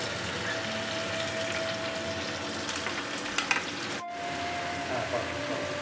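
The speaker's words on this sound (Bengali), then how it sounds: "আমি আর 2 মিনিট মতো এটা একটু কষাবো, মানে ভাজবো, ভেজে নেবো।" Mixed vegetables with onion and a little salt fry in a kadai and are stirred, giving a steady sizzle with scattered clinks. The sound cuts out briefly near the end and then resumes more quietly.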